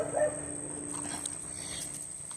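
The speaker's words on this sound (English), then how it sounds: "sorry about the dog" A dog whimpers indoors with a short, high whine near the start, then softer restless noise fades beneath a steady background hum.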